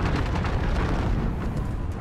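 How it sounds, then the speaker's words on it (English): An allied cruise missile strike in Call of Duty: Modern Warfare Ground War booms as a heavy, sustained rumbling explosion. It fills the whole moment loudly with no clear break. "Allied cruise missile on the way!"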